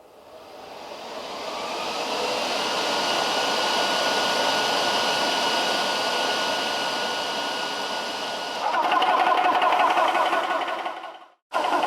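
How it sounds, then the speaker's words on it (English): A Lil' Foot 2.0 high pressure PCP air compressor runs alongside a cooling fan, a loud steady motor drone that turns into a rougher, louder pumping chatter near the end before cutting out briefly. "Then we're gonna turn the fan on, then turn the compressor on"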